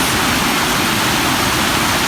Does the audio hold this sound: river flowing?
yes